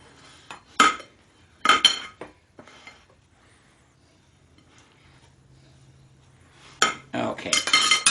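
A bowl and dishes set into a kitchen sink: a few sharp ceramic clinks and clatters early on, a quiet gap with a low hum, then a busier burst of clattering and rattling near the end.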